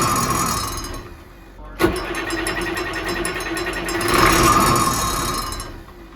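A cheap old boat engine cranks briefly, then catches with a sharp pop and settles into a loud, steady, rapidly chattering run that swells slightly before easing.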